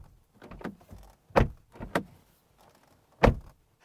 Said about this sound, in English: This is what the door sounds like.